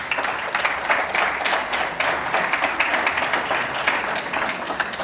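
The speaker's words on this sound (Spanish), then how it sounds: "Me sumo a los aplausos." Applause from the audience at a strategic forum in Argentina, a steady, fairly loud burst of many hands clapping, dense and sustained for about five seconds.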